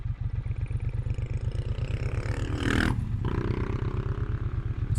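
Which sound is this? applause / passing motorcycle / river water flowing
passing motorcycle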